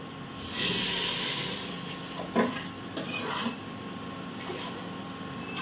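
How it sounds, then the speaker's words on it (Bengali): Water poured into frying daliya khichdi in a pan hisses in a sharp burst of sizzling, settling into a softer bubbling hiss with a few light clinks of utensils, close and moderately loud. "আমি দিয়ে দিচ্ছি এর মধ্যে জল।"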